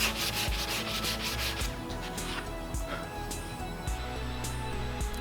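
Steady, close-up sanding of body filler on a 1985 Pontiac Fiero: a coarse abrasive rasp scrubbing back and forth over a hard surface in quick repeated strokes.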